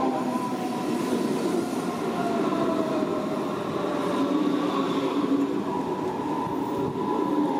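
Continuous loud rumble and rolling rattle of S-Bahn commuter trains passing on a double-track section between Egelsbach and Erzhausen, Germany, steady throughout with faint wheel squeal, no voices.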